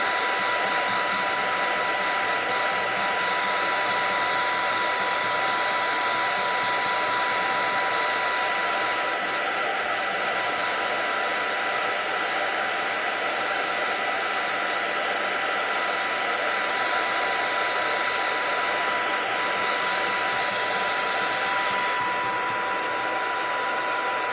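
A hair dryer heats a full-body vehicle decal during application, blowing a steady, loud whine and airy rush without a break for the whole stretch.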